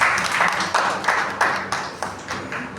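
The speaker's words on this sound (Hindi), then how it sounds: "एक बार तालियां बजा दूंगी" A hall audience at a Hindi satire award event in Delhi claps in a series of rhythmic, evenly spaced bursts, close and fairly loud, with no talking over it.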